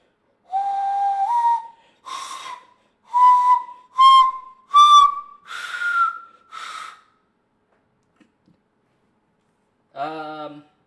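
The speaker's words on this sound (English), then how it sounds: "Yeah, you use your hands to whistle." Loud whistling made with the hands, heard as about seven sharp tonal bursts with rising pitch. Each burst is brief and spaced unevenly. A short voiced sound follows after a pause.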